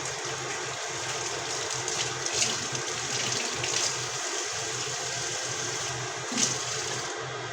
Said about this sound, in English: Now I'm going to rinse my hands again.